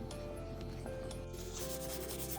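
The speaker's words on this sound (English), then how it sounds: "between each coat, you want to make sure that you sand in between with 220." Painted end table being hand-sanded between coats of white cabinet and furniture paint with 220 grit sandpaper, a steady close scratchy rubbing that continues without a break.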